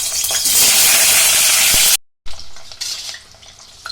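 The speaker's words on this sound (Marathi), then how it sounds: "आता आपण पहिल्यांदा भाज्या फ्राय करून घेऊ आता आपण पहिल्यांदा फ्लावर टाकणार आहोत" Cauliflower florets hit hot oil in a pan for veg kolhapuri, giving a loud, close sizzle with stirring scrapes that cuts off briefly, then returns as a softer frying hiss.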